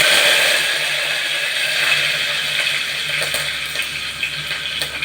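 Curry leaves sizzle in hot oil after mustard seeds, with a steady, close crackling hiss that slowly softens.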